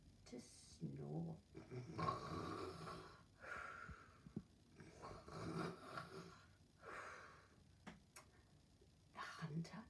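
A storyteller imitates a wolf snoring in a bedtime tale, making a run of breathy, snorting snore sounds in slow repeated cycles, close and moderately loud, with no other sounds around it.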